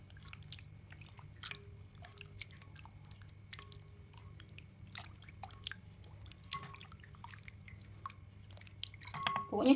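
Ingredients for mie lakse are rinsed in water, giving faint, scattered drips, splashes and wet squishes close by in a quiet kitchen, growing busier and louder at the very end.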